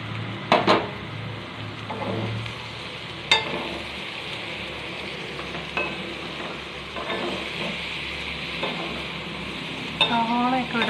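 Sliced onions tossed into a pan of partly cooked yam and stirred, with soft sizzling, scraping and a few sharp clinks of utensil on pan over a steady cooking hiss.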